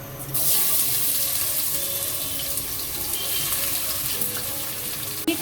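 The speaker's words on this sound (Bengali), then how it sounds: "তেল গরম হয়ে গেছে, আমি এখন বেরেস্তাটা ভেজে নেব" Onions for beresta frying in hot oil in a curry cooker, a steady close hiss and crackle running evenly throughout with no talk.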